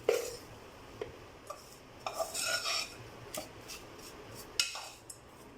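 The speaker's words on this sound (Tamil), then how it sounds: "நம்ம ஹோம்மேட் புளியோகரை பவுடரில் நம்ம செய்ததில் ரைஸ் போட்டு மிக்ஸ் பண்ணிக்கலாம்" A spoon mixes cooked rice into homemade puliyodharai powder in a bowl, giving soft, irregular scrapes and light clinks, close but quiet, with no talking.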